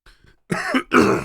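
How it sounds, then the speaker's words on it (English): Several coughs or throat-clearing bursts from a man indoors, two loud close bursts after a faint start, each harsh and rasping, alone with no talk. "I'm so sorry I'm coughing so much."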